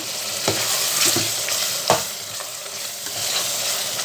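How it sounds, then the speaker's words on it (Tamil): Mutton sizzles steadily in hot oil for biryani, with a few sharp stirring scrapes of a spoon against the pot at irregular moments; close and fairly loud, with no voices. "மட்டன் நல்லா வதங்கி வருது எண்ணெய் பிரிஞ்சு வந்துடுச்சு"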